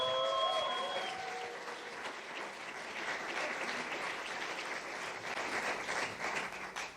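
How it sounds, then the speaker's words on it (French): A church congregation in Geneva gives a big round of applause during a French-language service: brief tonal sounds open, then sustained crowd clapping continues throughout and swells slightly toward the end. "est-ce qu'on peut faire un grand applaudissement au roi du roi?"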